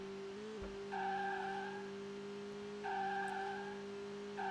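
Skiddy Car mobile racing game audio: a steady synthetic engine drone runs throughout while two sustained higher skid squeals come and go, loud and alone without talk.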